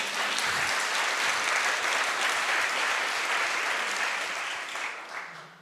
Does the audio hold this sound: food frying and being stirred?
no